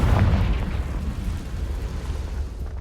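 Fiery Confringo spell blast in the game Hogwarts Legacy, a loud booming explosion at the start that rumbles and decays over a few seconds with no voices.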